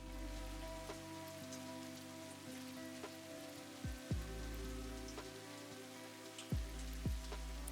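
Rain falling in the video game Satisfactory, a soft steady patter of drops heard faintly and evenly under low game hums and a few brief sweeping tones.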